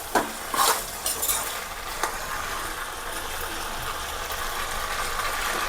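Food is stirred in a pan at home, with a spoon scraping and clinking against the metal in a few sharp strokes early on, then a steady soft sizzle with no talk.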